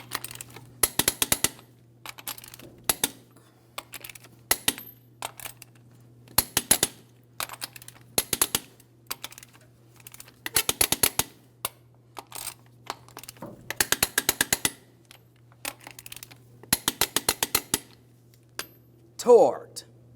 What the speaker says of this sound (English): let's torque each one of our lug nuts to 140 foot-pounds in a crisscross manner.